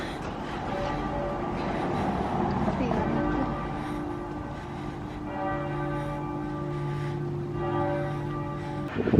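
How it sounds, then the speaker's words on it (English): Church bells chime continuously in overlapping ringing tones, steady and fairly loud, with a hum of background noise beneath. "Church bells chiming."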